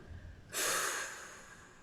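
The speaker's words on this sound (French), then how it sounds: "soufflez fortement par la bouche en relâchant les bras et en ouvrant les mains" A single forceful breath blown out through the mouth while the arms relax and the hands open, during an emotion-management breathing exercise. It is a loud, breathy whoosh that starts abruptly and fades over about a second.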